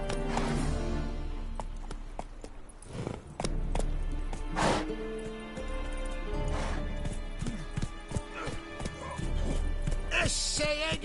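Roach the horse gallops in The Witcher on PS5, rapid hoofbeats pounding under a continuous bed of game music and ambience, with a voice urging the horse on.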